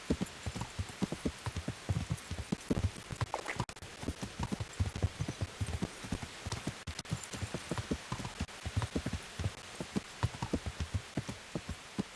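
Horse hooves clip-clop in a steady, brisk rhythm in the video game Kingdom Come: Deliverance, close and clear, continuing throughout against a faint background hiss.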